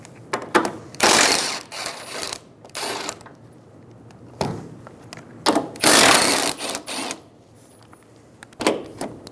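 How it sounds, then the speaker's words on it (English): A hand ratchet with a 14mm socket loosens the three strut top nuts on a 2007-2011 Toyota Camry, giving several bursts of rapid clicking separated by pauses. "Using a 14mm socket, remove the 3 nuts on the top of the strut"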